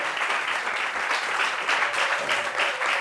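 Studio audience applauding a guest on a televised talk show set, dense steady clapping from a crowd, loud and close throughout with no speech over it.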